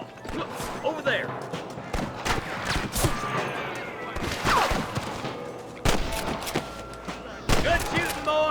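Rapid gunfire in Red Dead Redemption fills a Western shootout, with repeated sharp shots and volleys at varied distances, loud and dense, while characters shout over the fighting.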